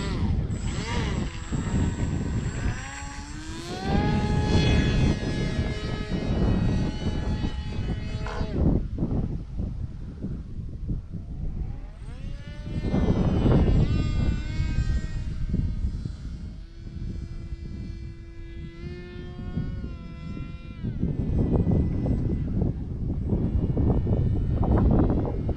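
The electric motor of a Value Hobby Condor X-75 RC airplane drones continuously in flight, rising and falling in pitch as the plane passes, with steady wind and outdoor noise throughout.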